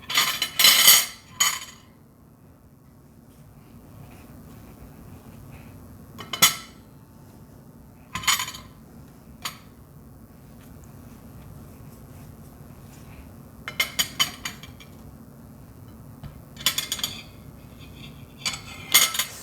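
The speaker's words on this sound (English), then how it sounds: "with the help of spoon, I can easily take out the pulp of avocado" A metal spoon scrapes and clinks against avocado skin and a bowl while scooping out the pulp, in short bursts of tapping separated by long quiet gaps.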